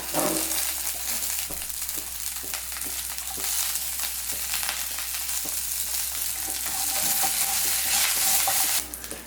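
Curry leaves dropped into hot oil for onion rice, crackling and sizzling loudly and continuously at close range, with light stirring scrapes and no voices.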